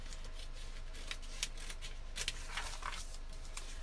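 Paper being cut with scissors for a notepad and calendar holder craft, a few short crisp snips spaced out over a steady quiet background, close and fairly soft.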